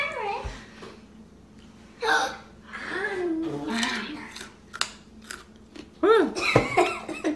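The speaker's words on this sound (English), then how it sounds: "I'm gonna eat the carrot." A child bites into and chews a raw carrot, giving a few crunchy bites and mouth sounds in a quiet room, with short bursts of child speech in between.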